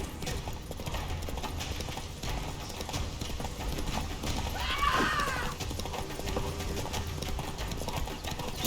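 Horse galloping in The Witcher 3 video game, a steady rhythmic clip-clop of hooves running continuously at close range with a brief sharp clatter midway.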